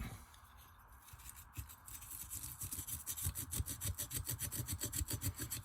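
A hard tool scrapes hardened old grease from the case of an Olympic Hurricane fishing reel. The scraping starts faint and irregular, then turns into quick, steady, close strokes.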